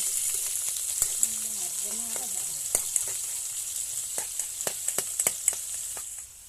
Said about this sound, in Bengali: এক এক করে পেঁয়াজ কাঁচামরিচ দিয়ে পেঁয়াজটাকে একটু ভালো করে ভেজে নিব